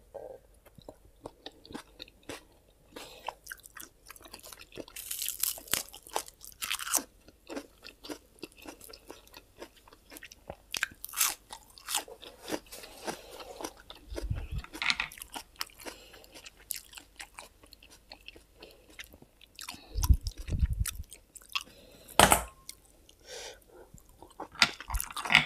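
Crunchy chewing of a salmon papaya salad with giant garlic stems, small conch and plenty of vegetables, close-up bites and crunches coming in irregular bursts with quiet pauses between.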